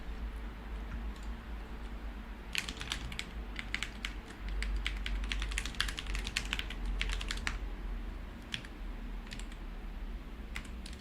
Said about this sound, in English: I should learn to type, but that was probably the keyboard